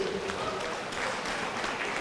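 Crowd applause ringing out for two fighters in the cage after a knockout at an amateur MMA fight night, a steady wash of clapping with a voice carrying over it.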